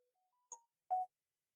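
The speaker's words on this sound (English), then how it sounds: "Someone's phone rang." A brief electronic phone tone, a short rising beep sequence followed by a louder single ring burst, heard alone in otherwise quiet surroundings.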